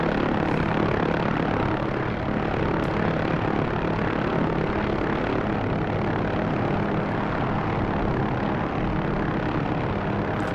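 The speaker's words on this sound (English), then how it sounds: "Trimming the helicopter out." A steady, loud rotor-and-engine drone of an OH-6A helicopter in the DCS flight simulator holds for the whole stretch, a constant mechanical whir with no voices and no change in pitch.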